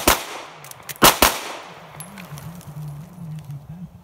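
Several sharp pistol shots crack close by during a reload drill: one at the start, a short pause, then a quick pair, with ringing echoes and a low hum afterward.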